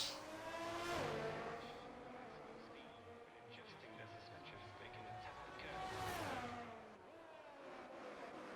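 Racing cars slowing into the pits at a Canada round, their engine whine rising and dropping in pitch, faint and distant beneath steady talking.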